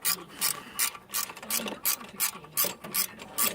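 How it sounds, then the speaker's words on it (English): A ratchet wrench loosens a 9/16 bolt on a power steering pump, rattling out a quick, steady series of about a dozen sharp clicking bursts up close, with no voices. "9/16 this bolt is. Loosen this one up."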